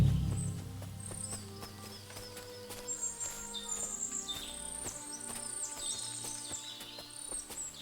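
Horses in a medieval village in Kingdom Come: Deliverance II, with soft hoof clops and shuffling steps repeating over steady outdoor ambience and bright, busy birdsong.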